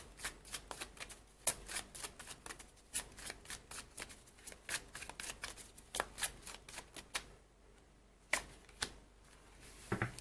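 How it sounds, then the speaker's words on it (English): Tarot cards being shuffled by hand, giving quick crisp riffles and flicking clicks in irregular bursts with short pauses between them, close and fairly quiet, with no talking. "I'm not very good at shuffling anyway."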